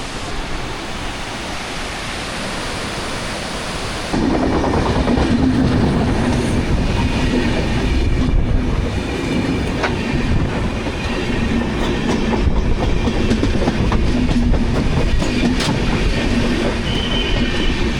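Tejas Express passing close to a waterfall, its rolling wheels and carriages a loud, steady rumble with clickety-clack and faint squeals after a rushing-water opening.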